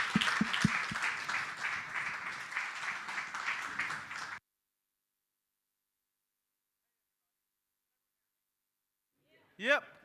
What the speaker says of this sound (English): And if everyone can give a warm round of applause for Howard, we'll dive into it.